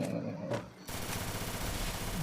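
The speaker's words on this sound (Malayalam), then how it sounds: "നീ എന്തിടാ ഈ ക്യാരക്ടർ വെടി വയ്ക്കുന്നത്?" Gunfire in the mobile battle game Free Fire, a dense continuous burst of rapid shots with heavy noisy crackle that starts abruptly partway through and stays loud to the end.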